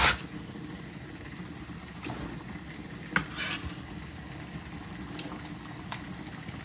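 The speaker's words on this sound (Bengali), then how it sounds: "এই যে কচুটা সিদ্ধ হোক" Taro pieces simmer in a pot on a home stove, giving a low, steady bubbling with occasional faint clinks of utensils against the pot and no one speaking.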